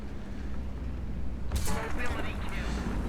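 Tank gunfire strikes a turret in the War Thunder game, a sudden loud burst of shots and crackling impacts breaking in midway over a steady engine rumble.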